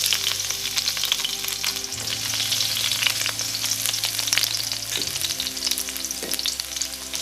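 Garlic frying in a pan sizzles steadily and close, with a brief stir midway and crackling spatter throughout, without any talk.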